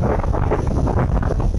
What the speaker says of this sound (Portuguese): A força do vento impressiona.